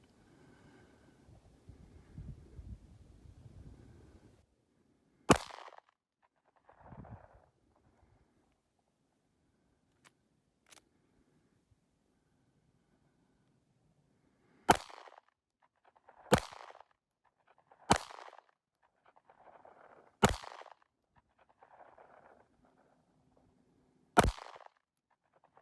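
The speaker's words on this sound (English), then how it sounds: "I'm going to shoot for the center mass bullseye" Sharp, isolated Sig P365 pistol shots outdoors in snow, about six cracks spaced several seconds apart with quiet wind-muffled gaps and faint rustling between them.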